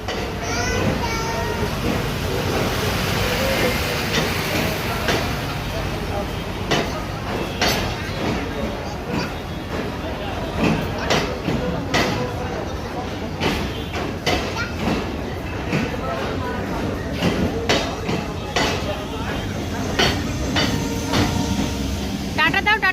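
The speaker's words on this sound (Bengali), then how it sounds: "ট্রেন" A passing train heard at close range, a continuous rumble with rhythmic clickety-clack of wagons over the rails throughout, while people speak intermittently nearby.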